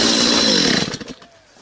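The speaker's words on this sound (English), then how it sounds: "I was going to use the big chainsaw, but I think it's okay to use this little one that I've got." A small chainsaw cuts side branches and a dead trunk, running loud and steady before the engine drops away to idle and fades within about a second.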